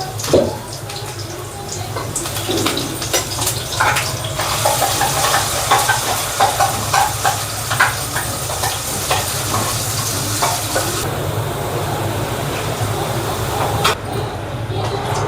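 Ground fish-curry masala sizzles and crackles in hot tempering oil with onion and curry leaves, a steady close frying hiss broken by stirring scrapes throughout, with no talk.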